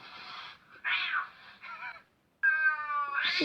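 A cat meows several times, close and clear, in short drawn-out calls separated by brief pauses, the last ones louder and longer.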